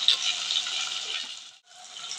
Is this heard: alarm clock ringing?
no